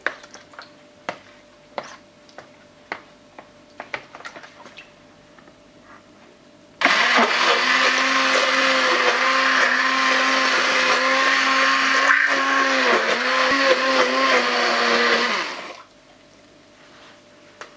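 A frozen yogurt mixture is blended with milk, a loud, steady motor whir that starts abruptly, runs about nine seconds with slight pitch shifts, then cuts off, framed by quiet clicks and handling before and after.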